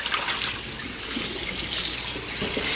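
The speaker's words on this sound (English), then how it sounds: "My hand is really, it's a cold water. I'm washing the turkey." Cold tap water trickles and splashes steadily into a sink while a whole raw turkey is rinsed under it, a continuous close splattering flow with no talk.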